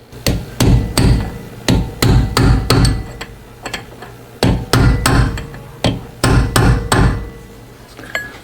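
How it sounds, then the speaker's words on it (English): Repeated loud metallic hammer strikes bend a collar over the pinion nut on a Mercedes Sprinter, landing in quick bursts of several blows with brief pauses between them, close and sharp. "So now we're gonna bend the collar over here"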